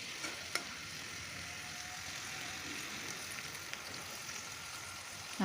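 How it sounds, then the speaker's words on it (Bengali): Garlic and onion fry in oil in a wok, making a soft, even sizzle like light rain with a few faint stirring clicks. It is quiet and steady throughout. "এখন একটা কড়াইতে তেল দিয়ে এটার মধ্যে রসুন আর পেঁয়াজ দিয়ে একটু লাল করব।"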